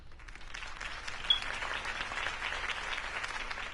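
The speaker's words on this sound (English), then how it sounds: "could have heard that applause" Steady crowd applause at a political campaign rally in the game Batman Telltale, a dense, even wash of clapping that holds throughout at moderate distance.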